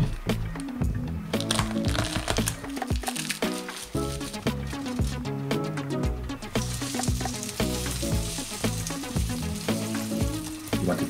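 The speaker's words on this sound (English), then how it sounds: "You want to hear that sizzle when you put the goat in." A goat rack sizzles loudly in a moderate to hot pan, with continuous crackling and spitting pops that hold steady throughout.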